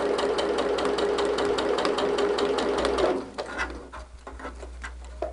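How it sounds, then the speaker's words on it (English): A sewing machine labors through bulky quilt fabric over seams, running steadily and close before slowing into uneven, chugging stitches and sporadic clunks. "I think you could hear my machine kind of chug that"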